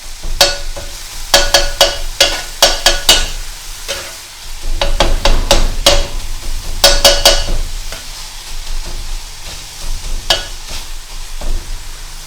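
A seasoned ribeye steak sears in a pan with garlic, salt and black pepper, giving a steady sizzle broken by sharp, repeated clanks and scrapes of stirring and turning, loud and close with no talk.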